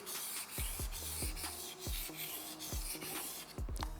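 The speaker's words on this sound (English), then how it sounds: "As we are sharpening the whole blade, the tip always goes up" Kitchen knife blade sharpened on a whetstone, close rhythmic scraping strokes with sharp gritty onsets, about a dozen in quick succession, quiet and with no speech.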